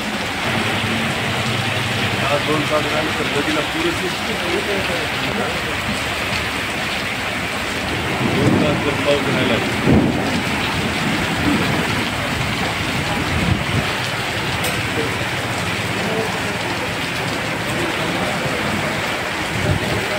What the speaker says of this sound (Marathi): अतिशय हा जोराचा पाऊस आहे।